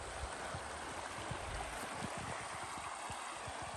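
A creek flows past a campsite in south central Alaska, its steady broadband rush of water continuous and close throughout, with no voices.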